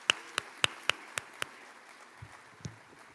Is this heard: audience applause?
yes